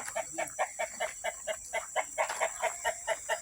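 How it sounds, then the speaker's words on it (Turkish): Clucking of a large Indian rooster, a regular series of about a dozen close, clear clucks at a steady rhythm, with no talk over it. "O devasa bir Hint horozu var burada."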